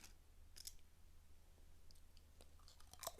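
Orange sweet potato chips being bitten and chewed up close: a few sharp, quiet crunches and clicks scattered over a faint background hum.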